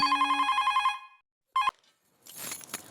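Telephone bell ringing in a domestic comedy scene, a loud close electronic trill for about a second, a short second burst, then a rustling, clattering pickup.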